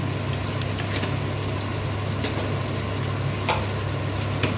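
Curry with ground spices, roasted cumin powder and garam masala being stirred and fried in a pan, a steady close sizzle with occasional scraping stir sounds, loud and continuous with no talk.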